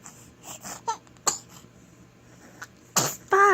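A girl sneezes several times in quick succession, sharp bursts spaced across a few seconds, with a louder one near the end, close and clear with no talking.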